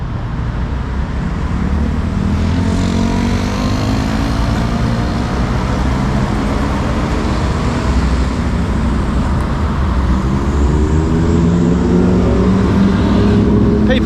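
Steady roar of traffic on a major road in Ubon Ratchathani, Thailand, with cars, trucks and buses passing close by in a loud, continuous stream and engines rising and falling as vehicles go past.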